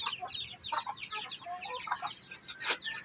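Chicks peep shrilly and chickens cluck in a rice-hull-lined brooding pen on a cold, windy day, a busy overlapping chorus of high chirps with a few louder calls, no talking.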